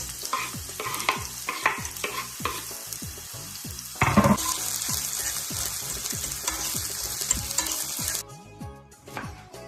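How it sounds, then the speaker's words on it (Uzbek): Onions sizzle and crackle steadily in hot oil in a pan, with repeated stirring scrapes throughout and a louder burst of sizzle partway through. "Piyozni qovurishni davom ettiramiz."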